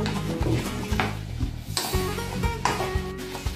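Garlic stirred and browning in a sauté pan, with repeated scraping and clinking strokes of a utensil over a low sizzle, close and fairly loud.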